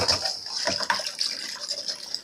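Garlic scape tops rinsed in a strainer set in a bowl of cold water, giving a continuous close splashing and trickling with small swishes and knocks, moderately loud and without talk.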